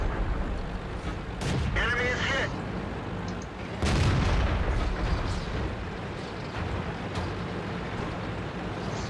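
Tank cannon fire in World of Tanks during a T14 Tier V heavy tank battle, with two heavy booms a couple of seconds apart over constant engine rumble and battle noise.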